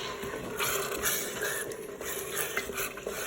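Chopped carrots and parsley being stirred in a Cookeo pot, repeated scraping and light clinking of a utensil against the pot over a faint sizzle, close by and without speech.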